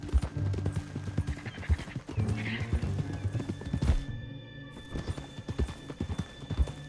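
Horse hooves clop in a steady rhythm and a whinny rises near the middle in the video game Red Dead Redemption 2, fairly close, with a short pause before the hoofbeats resume.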